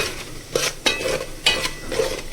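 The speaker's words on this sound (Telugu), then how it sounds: "వేసుకొని ఒకసారి మిక్స్ చేసుకుందామండి" A spoon stirs garam masala, coriander powder and cumin powder into a simmering vegetable curry, scraping the pot in four or five distinct strokes over a soft, steady sizzle.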